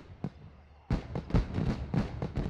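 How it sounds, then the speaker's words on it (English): Fireworks burst in the Assassin's Creed Rogue video game, a sharp early pop followed by a run of loud, crackling explosions that keep coming in quick succession, with no talk over them. "Those fireworks are truly impressive"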